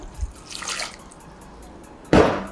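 Water from a tap splashes into a bowl of chopped banana for soaking, a short gush early on followed by a louder burst of pouring near the end.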